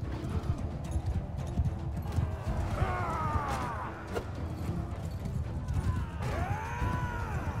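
Horse in Mount & Blade 2 Bannerlord during a siege battle: steady hoof clip-clop under constant battle noise, with two whinnying neighs rising out of the din, and faint talk in the background.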